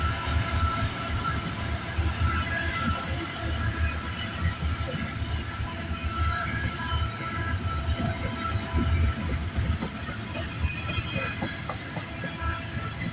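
A CN freight train led by Illinois Central heritage locomotive 3008 rumbles past steadily on a rainy day, with continuous low roar and rhythmic clattering of wheels over rail joints, close and loud throughout.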